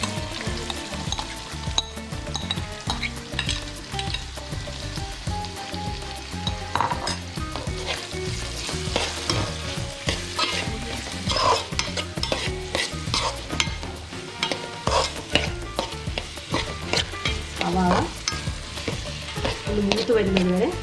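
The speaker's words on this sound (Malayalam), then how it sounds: "അരിഞ്ഞു വെച്ചിരിക്കുന്ന സവാള മുഴുവനായും ചേർക്കാം." Chopped onions sizzle steadily as they fry in a pan with garam masala, with continuous scraping and stirring strokes close by for the whole stretch, no voices.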